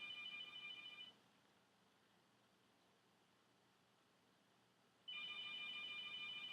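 A telephone rings in shrill electronic bursts, one about a second long, then a pause of several seconds, then the ringing resumes loudly; no voices.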